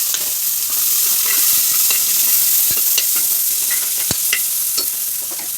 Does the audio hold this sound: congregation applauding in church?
no